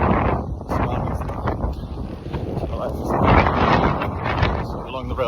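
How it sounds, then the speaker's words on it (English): Wind gusts buffet a microphone outdoors on a run across Vietnam, a rough, loud rumble that swells and fades continuously beneath a voice. "It's a bit windy now, I don't know whether you'll be able to hear me that well."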